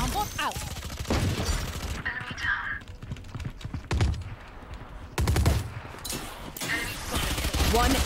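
Spectre submachine gun fire in the video game Valorant comes in rapid bursts and clattering volleys, loud and close, with breaks of quieter game ambience between them.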